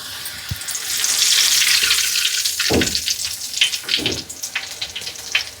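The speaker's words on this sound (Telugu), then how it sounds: "నూనె మంచి వేడైపోయింది అటుకులు వేసుకుందాం" Flattened rice (poha) dropped into hot oil for deep-frying, a loud, close, continuous crackling sizzle with a few sharper bursts as it cooks.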